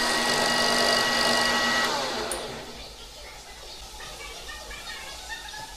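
Metal lathe turning the outside diameter of a cast gas cap, a loud whirring motor hum with a cutting hiss that fades down after a couple of seconds into a quieter running drone with faint scratchy ticks.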